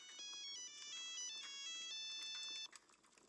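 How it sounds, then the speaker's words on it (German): A phone ringtone plays a bright repeating electronic melody for a few seconds, close and clear, then cuts off, with a quiet room behind it. "Martha ruft an"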